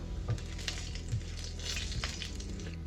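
Cumin seeds sizzle and crackle steadily in hot oil while a spinach palak dish is being cooked, a dense frying hiss with a few soft pops, close and continuous with no voices.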